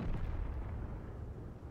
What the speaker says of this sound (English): The artillery's heard from.